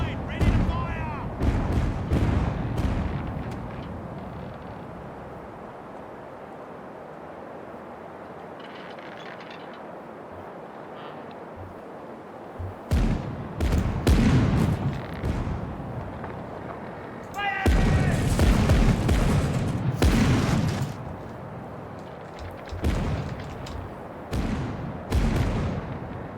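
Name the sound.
ship cannon broadside firing in Caribbean Legend video game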